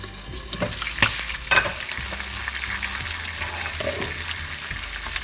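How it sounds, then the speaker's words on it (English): Koi fish fry in oil in a covered pan on low heat, giving a loud, close, continuous sizzle with crackles and a few knocks from the pan. "It takes 2 to 3 minutes to fry each side."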